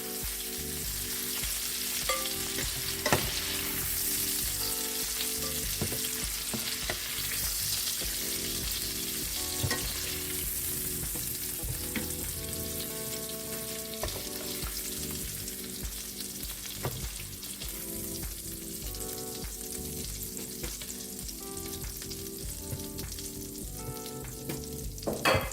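Shrimp frying in a pot for a garlic butter shrimp and broccoli stir fry, a constant close sizzle and crackle with occasional stirring clatter, steady throughout with no voices.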